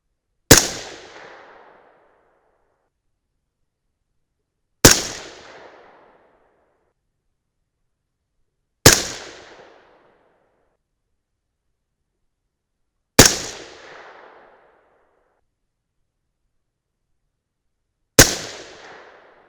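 Five sharp .223 Remington rifle shots firing 75gr Speer Gold Dot loads, evenly spaced about four seconds apart, each a loud crack followed by a short decaying echo, with silence between.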